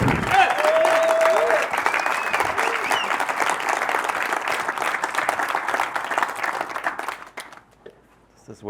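Applause from a conference audience at a startup societies event, sustained clapping from many hands that fills the room for about seven seconds, then fades out quickly.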